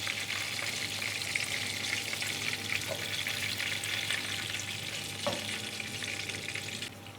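Chicken masala kebabs frying in a pan, a steady close sizzle of hot oil running throughout with a few faint clinks and shifts, no one speaking.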